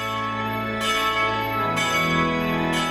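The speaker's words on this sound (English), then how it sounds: "The sound of bells merges with the singing of the Gloria." Church bells ring during the Easter vigil in Jerusalem, bright overlapping peals with fresh strikes roughly every second, sustained and resonant.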